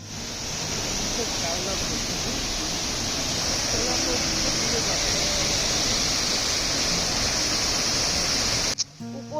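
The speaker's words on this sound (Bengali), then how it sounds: "তারপরে আমাদের চোখে পড়লো ওয়াটারফলসটা" Steady roar of a waterfall beside an old broken-down mill near Manchester, a dense continuous rush of falling water close by, unbroken for the whole stretch, with a brief shift right at the end.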